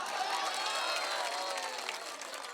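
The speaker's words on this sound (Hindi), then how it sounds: "कहते हैं तो एक बार ताली बजा के बताइए आप लोग" Audience clapping at a comic Hindi poetry recital at an All India Mushaira, a steady dense wash of applause from a large crowd, fading slightly toward the end.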